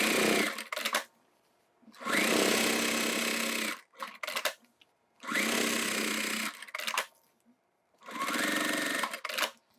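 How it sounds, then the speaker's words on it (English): A sewing machine stitches the bottom seam of a Suzi toiletry bag in four loud, steady bursts of roughly one to two seconds each, with near-silent pauses between them. "Now we can sew the bottom of this."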